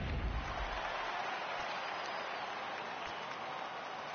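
A home crowd in the baseball video game MLB 18 The Show roars steadily from a distance, a broad wash of cheering that holds at an even level and fades slightly toward the end.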